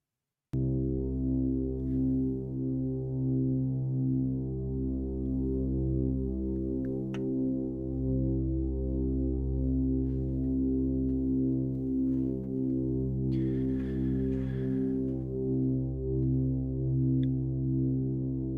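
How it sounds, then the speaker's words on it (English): Sustained analog synthesizer drone from a Supercritical Redshift 6, a steady layered low hum with slowly pulsing harmonics, a brief brighter burst near the end, playing alone at moderate level. "We're not gonna listen to a 15-minute drone."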